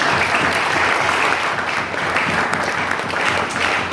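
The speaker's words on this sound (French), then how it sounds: "Applaudissez chaudement conférencier." Sustained, dense applause from a conference audience fills the whole stretch at a steady, loud level with no pauses and no clear voices on top.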